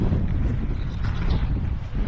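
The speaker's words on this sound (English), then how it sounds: "Interesting wind." Steady wind rushes and buffets against a microphone at an ultramarathon race finish line, a continuous broadband roar with no clear voices.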